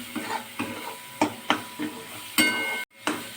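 Hot goat fat sizzles and crackles as spices fry red in a pan for pea ghugni, with repeated stirring scrapes in an uneven rhythm, close and fairly loud.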